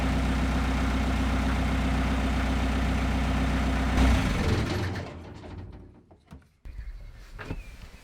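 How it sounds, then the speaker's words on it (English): A narrowboat's diesel engine idles with a steady, deep, close drone for about four seconds, then cuts out and gives way to quieter scattered knocks and clatter. "engine still sounds pretty good, doesn't it? It's a trooper"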